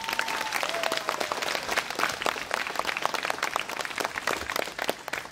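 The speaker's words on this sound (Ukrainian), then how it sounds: "Привітаємо оплесками вчителів гімназії!" An audience at a gymnasium graduation ceremony applauds the teachers with steady, sustained clapping from a large crowd filling the hall.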